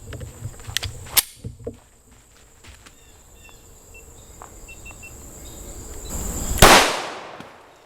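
A 9mm solid copper 80 grain round from Fort Scott Munitions is fired from a 4.95 inch pistol at body armor outdoors: a sharp crack early on, then a louder, ringing blast later, with insects chirping throughout.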